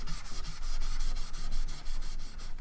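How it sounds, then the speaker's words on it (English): Sanding a part of a Nerf MA37 toy blaster, with steady rhythmic rasping strokes repeating about five times a second, close and fairly loud with no talking. "It's no big deal, just do a little bit of sanding, you know."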